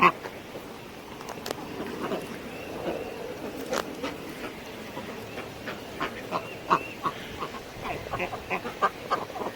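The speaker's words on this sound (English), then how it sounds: "I might have to add some reinforcement to it if I keep finding ducks on it." Ducks quack in a backyard garden, scattered calls coming and going over a steady outdoor background, with faint voices at times.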